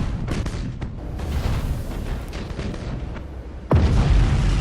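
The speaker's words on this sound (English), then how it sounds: "Let's drop a melter bomb." A melter bomb in the space game Battlefleet Gothic Armada goes off with a sudden deep boom near the end, preceded by rumbling bursts and crackling battle noise.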